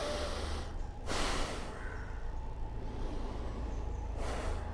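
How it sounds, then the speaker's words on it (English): Slow, deliberate breaths drawn in and pushed out through the nose during a meditation exercise, close and airy, with a couple of distinct louder inhale and exhale rushes and no talking. "I'm breathing in and out through my nose, but my chest is expanding and contracting"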